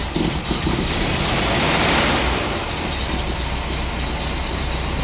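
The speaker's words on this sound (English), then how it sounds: "so we're going to do a little cold start." A 1971 VW bus engine rumbles loudly and steadily at idle right after a cold start, a dense continuous roar with a slight uneven lope throughout, idling around 1,000 rpm.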